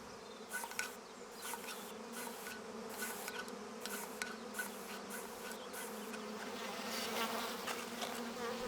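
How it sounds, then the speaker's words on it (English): A steady, dense hum of many honeybees buzzing continues throughout, with individual bees passing close now and then, producing brief louder swells over the constant drone. "We've learned to control honeybees using smoke to calm them, subdue them"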